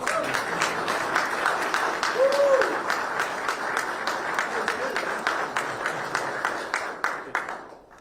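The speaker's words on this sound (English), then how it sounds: "Give him applause." A small group applauds at a press conference introducing a new police chief, with brisk, even clapping that carries for several seconds before thinning and fading out.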